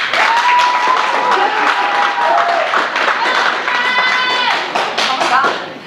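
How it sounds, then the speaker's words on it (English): An improv comedy audience claps enthusiastically to vote for a performer, with sustained, dense applause mixed with whoops and cheering voices throughout. "can you clap for me if you want Jeff to be the superhero?"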